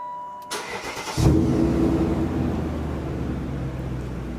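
A BMW M5 E39 with its rear silencers removed cranks briefly on the starter, then catches with a loud bark and settles into a deep, rumbling idle close by.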